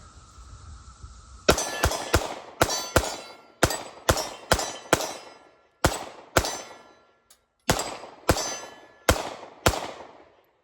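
FN Reflex micro 9mm pistol shots, a rapid string of about fifteen sharp cracks each followed by a bright metallic ring off a steel target, fired in irregular bursts and fairly loud.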